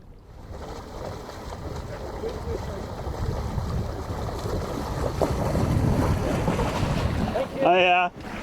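A sailboat underway on Barton Broad with wind grabbing the sails: steady wind buffeting and rushing water wash build gradually, ending in a brief, loud warbling tonal squeal near the end.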